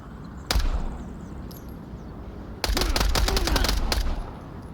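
Gunshots in a VR duel game: one sharp shot, then after a pause a rapid burst of about a dozen close, loud shots fired in quick succession.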